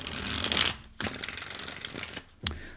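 Tarot cards being shuffled up close, a crisp riffling rush followed by softer shuffles and a couple of sharp card taps, with no talking.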